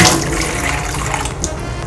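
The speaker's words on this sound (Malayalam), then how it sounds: "ഞാനിപ്പോൾ വെള്ളം തന്നെ ഒഴിക്കുന്നത്" Water poured into ground rice batter for palappam, a steady splashing, gurgling pour close up that fills the brief moment without any talking.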